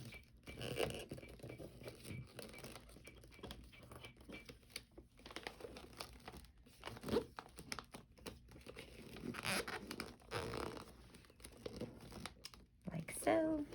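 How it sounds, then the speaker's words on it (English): Gift wrapping paper folded and crinkled at the corners for Japanese pleated wrapping, close crackling and rustling bursts that come and go, with a person talking throughout. "you're going to wrap the sides just like you would a normal gift. So we'll fold in the corners."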